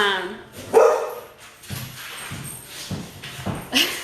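A small dog barks several times in short, sharp yips, close by, with a voice talking in between.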